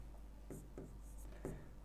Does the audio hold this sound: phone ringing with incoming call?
no